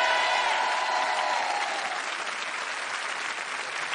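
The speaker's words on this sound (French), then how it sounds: "Est-ce que vous êtes prêts à acclamer Boudère et Valérie?" Studio audience on a French TV entertainment show bursts into loud, sustained applause and cheering for Booder and Valérie, starting strong and easing slightly as clapping continues.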